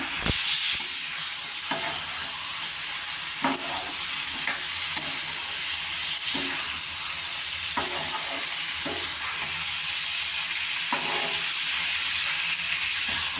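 Marinated chicken pieces with potatoes frying for a curry, a loud continuous sizzle with rhythmic spatula scrapes and stirs every second or two, close up and without talk.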